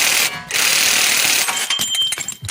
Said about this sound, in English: I'm going to use this handy dandy ball joint front end removal tool